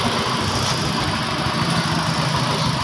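Motorcycle engine idling smoothly and steadily after a piston installation, a close continuous even hum with no speech.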